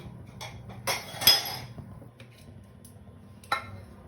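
A spoon clinks and scrapes in a bowl as a batter of Kashmiri chili, turmeric and poppy seed is stirred together, a few sharp metallic taps and scraping strokes over a quiet kitchen background.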